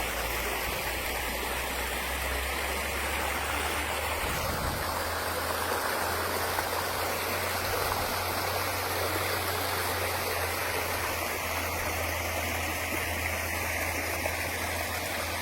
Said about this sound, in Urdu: یہ ماشاءاللہ ایک بہت خوبصورت گھنے جنگلوں میں اور پہاڑوں میں واقع ایک کمال کی آبشار ہے جو خاصی بلندی سے گرتی بھی ہے۔